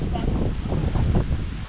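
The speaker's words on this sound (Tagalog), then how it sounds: "Mahangin, sobrang hangin yan. Tulad nito." Strong, cold wind sweeps across an islet campsite in Lumot, Cavinti, Laguna, a steady close rush buffeting the microphone while someone talks over it.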